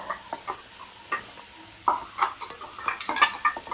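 Ground spice paste fries in hot oil with bay leaf and chilli over a medium flame, giving a steady hissing sizzle broken by crackling pops and spoon stirring, growing busier toward the end.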